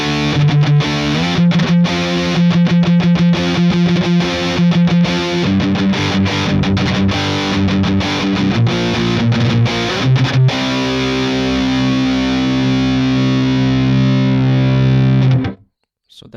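An electric guitar played with heavy distortion through a capture of a 1992 Peavey 6505 amplifier with a Mesa 4x12 cabinet impulse response, as loud sustained riffing with chugging palm-muted notes that stops abruptly at the end.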